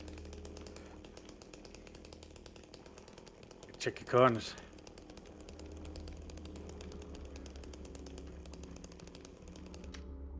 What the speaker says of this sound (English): I can actually stop the chainsaw from making fucking noise